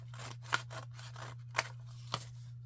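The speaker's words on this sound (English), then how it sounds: "I know without a doubt we're going to have to trim that one" Scissors snip paper being trimmed for a handmade no-sew journal: three crisp, close cuts spaced apart over a steady low electrical hum.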